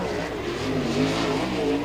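A USAC sprint car on a qualifying lap at Kokomo roars steadily at high revs, a loud continuous engine drone that swells slightly as the car passes through the turns.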